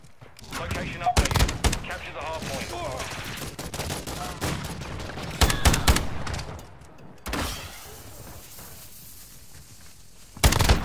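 Gunfire in Call of Duty: Modern Warfare II, bursts of rapid automatic shots and single cracks in several loud clusters, with a player talking over the action.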